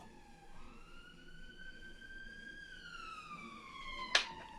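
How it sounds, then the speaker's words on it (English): A passing police car's siren wails in a long rising and falling tone, moderately distant and clear over a quiet background, followed by a brief sharp click near the end. "Police car going by."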